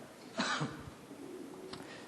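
A single sharp cough near the mic from a lecturer with a lingering cough, followed by faint throat sounds and a quiet room afterward.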